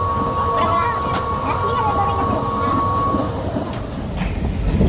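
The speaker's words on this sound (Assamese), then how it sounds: "অলপ পিছতে ট্ৰেইন আহি আছে" A train pulling into Nagaon station, with a loud rumble and clickety-clack of rail wagons close by and a sustained horn-like tone, as voices talk nearby.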